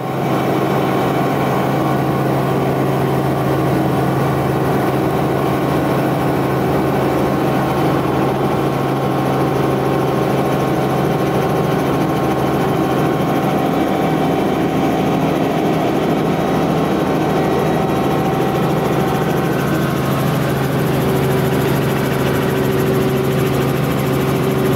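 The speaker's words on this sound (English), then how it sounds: "gonna head out in the helicopter today" Inside a helicopter on a tour above Valdez, Alaska, the engine and rotor drone continuously at a steady, loud level for the whole stretch, with no talk.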